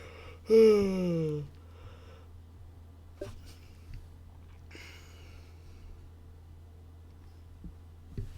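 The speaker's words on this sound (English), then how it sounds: "Sorry about the yawn." A single close yawn from a man, rising then falling and drawn out for about a second, followed by quiet room tone with a few faint clicks.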